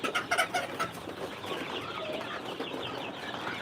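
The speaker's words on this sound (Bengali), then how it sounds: "টাইগার মুরগির বাচ্চা এবং মিশরি ফার্মি মুরগির বাচ্চা একসাথে লালন পালন করা যায় না" Tiger and Egyptian Mishri broiler chicks of mixed ages cluck and cheep together in a farm pen, a dense steady chorus with a few sharper peeps near the start, no voices.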